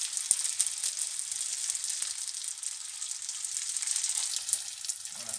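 Meat pastels fry in hot oil in a pan, a steady bright sizzle running the whole time with a few soft scrapes as they are turned, alone without talk.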